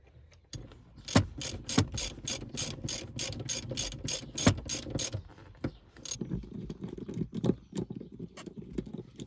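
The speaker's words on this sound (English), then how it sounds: "take your 5/8 socket and your bolts, your nuts, and put them back on the bolt" A 5/8 socket ratchet clicks in rapid, even bursts while nuts are run back onto bolts during a BMW E63/E60 subwoofer installation, with short pauses between strokes and no talking.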